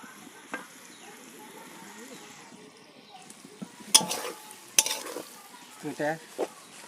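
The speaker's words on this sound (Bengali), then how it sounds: "কষিয়ে নিই কষানো হয়ে গেছে" Curry spices being stir-fried in a pan, a quiet sizzle under scattered spatula scrapes and metallic clinks against the pan, with a few louder knocks toward the end.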